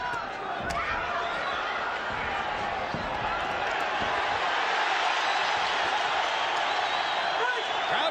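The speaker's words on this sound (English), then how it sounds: "crowd comes alive as Barrera, for the moment, gives as good as he takes" A boxing crowd at a 2003 fight between Manny Pacquiao and Marco Antonio Barrera roars and cheers continuously, a loud dense wash of arena noise with occasional sharp punch-like hits and a commentator's voice underneath.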